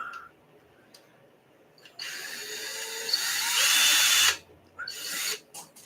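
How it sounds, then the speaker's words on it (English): A power drill runs during a repair to change out an arm, whining steadily for about two seconds at close range before cutting off, followed by brief rattles and a quieter burst. "Right, the drill."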